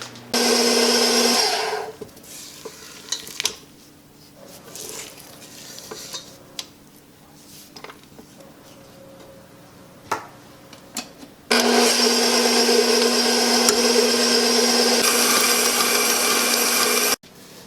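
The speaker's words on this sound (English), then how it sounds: "this has been beating for 10 minutes, and I've taken the paddle out" Stand mixer with paddle beating whole wheat bread dough, a loud motor whir at the start, quieter clicks and knocks in between, then the steady whir returning for several seconds near the end.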